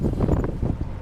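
Wind blowing into a microphone outdoors near a vehicle, a short burst of low rumbling buffeting with no voices.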